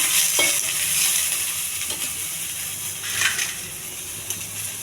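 Chopped onions frying in a pan with cumin, mustard seeds and curry leaves, a steady close sizzle with occasional stirring scrapes and small crackles throughout.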